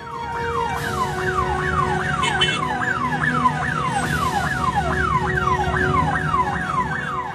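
An ambulance siren wails in a rapid, repeating rising-falling pattern, loud and steady throughout, over a low rumble of road traffic as a traffic policeman clears the way.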